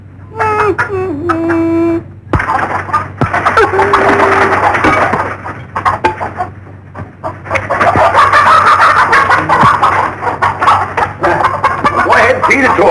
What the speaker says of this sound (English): Well, feed the chicken.